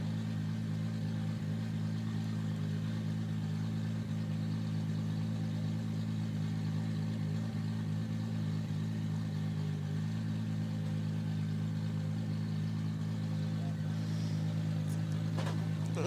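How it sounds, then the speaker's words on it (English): A race car engine on the Sochi Autodrom track makes a steady low, fairly distant drone that holds even and unbroken for about sixteen seconds. "we already hear the noise of the next coming engine"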